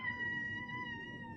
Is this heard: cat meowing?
yes